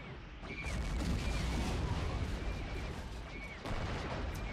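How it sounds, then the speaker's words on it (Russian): Battle din from a Men of War Star Wars mod skirmish, clone troopers assaulting a droid-held fortress city: dense, continuous rumbling explosions and crackling gunfire, loud and sustained, with a heavier blast near the end. "Сколько же взрывов с самого начала."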